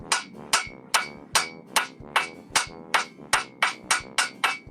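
Hot steel struck with a hammer while clamped in a vise to bend a 90-degree angle, about a dozen loud, ringing metallic blows in a steady, even rhythm, heard alone with no talk.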